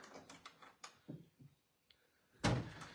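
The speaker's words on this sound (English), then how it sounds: "We're going to latch this other door." An interior door being latched during a late-night Halloween sleepover in a house, heard as a single sharp, loud metallic clack near the end after a few softer thumps and knocks.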